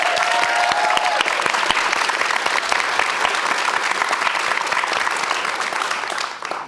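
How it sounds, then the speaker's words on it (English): An audience at a talk claps steadily and loudly for several seconds, a dense, sustained round of applause heard close with no voices above it. "please, everybody, give a round of applause to Sammy Khan."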